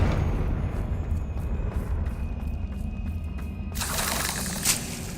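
A Confringo blasting spell going off in Hogwarts Legacy, a sudden bright crackling burst near the end over a steady low rumbling cavern background.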